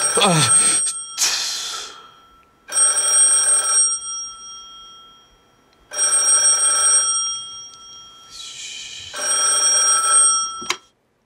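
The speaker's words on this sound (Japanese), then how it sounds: "電話や。" A telephone rings in three long bursts separated by pauses, each a steady electronic tone with harmonics, close and loud, with a brief voice and some clatter at the start.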